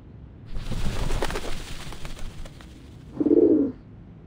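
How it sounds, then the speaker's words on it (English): Doves at the Whitestone House coo in the Reverse: 1999 video game: one short, soft burst of cooing near the end, following a stretch of quieter ambient game sound. "The doves of the Whitestone House are here."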